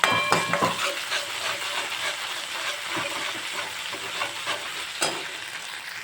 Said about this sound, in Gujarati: 1 ટીસ્પૂન જેટલી આદુ અને લસણની પેસ્ટ, એને પણ આપણે ગોલ્ડન બ્રાઉન સુધી હું કૂક કરી લઈશ